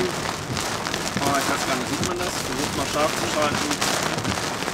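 Heavy rain in a thunderstorm during severe-weather warnings on an off-road trip through the Pyrenees, drumming steadily and loud throughout while a person talks over it.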